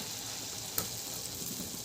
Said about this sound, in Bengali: লো করে পরিমাণ মতো ব্যাটার এর মধ্যে দিয়ে দেব।